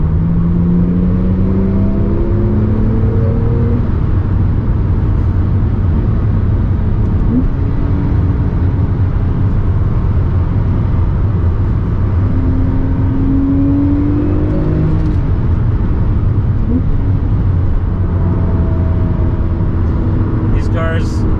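A 2016 Porsche 911 Turbo S hums and whirs steadily while driving, its engine note climbing in pitch through several accelerations, with a voice talking over it throughout.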